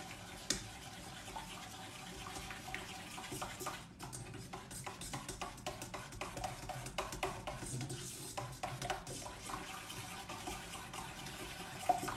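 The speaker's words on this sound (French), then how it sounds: "j'ajoute ma dernière partie de lait à mon chocolat et je mélange" Milk being stirred into melted chocolate for a milk and white chocolate Yule log with raspberry insert, made in a Thermomix: soft, liquid, sloshing stirring with small clinks of a utensil, quiet and steady, without speech.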